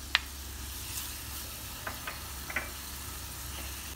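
Biber salçası (Turkish pepper paste) and grated garlic frying in a hot pan, giving a faint, steady low sizzle with a few small crackles and pops scattered through.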